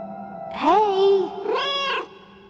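Two clear, fairly loud cat meows from the Another Sight video game, one rising then falling and a second shorter one after a brief pause, heard alone without talk.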